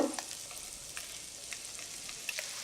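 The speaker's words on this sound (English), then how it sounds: "Hear that? That's what you wanna hear, that nice sizzle." Steady oil sizzle of salmon fillets frying in a hot pan, a continuous crackling hiss with occasional sharper pops, moderately quiet and close.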